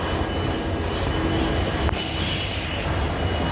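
Trains at Howrah railway station at night: a steady rumbling wash of railcars and wheels with a brief high wheel squeal and a sharp clank near the middle, crowd noise blended into the constant din.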